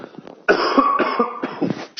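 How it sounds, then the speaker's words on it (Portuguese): A few sharp coughs close to the mic, one short burst followed by a longer run of harsh, throaty coughing. "Eu tô tossindo muito, cara."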